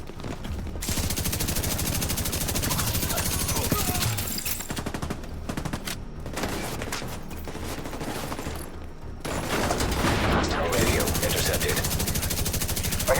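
Gunfire from The Division 2 video game during a street siege in the Wall Street area: dense, near-continuous bursts of automatic fire cracking loudly and overlapping almost without pause.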